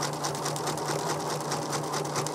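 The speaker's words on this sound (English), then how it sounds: "then you can just start stitching again" A sewing machine stitches steadily at close range, a fast, even mechanical whir with rapid rhythmic needle pulses and a constant motor hum, loud and uninterrupted.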